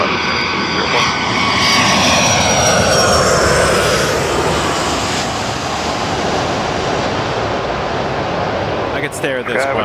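A Boeing 757 lands at Los Angeles International Airport with a loud, close jet-engine roar that sweeps and swells, then fades slightly toward the end with brief clatter.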